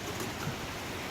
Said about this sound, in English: Rain still is not coming down too hard. It's just being blown around everywhere.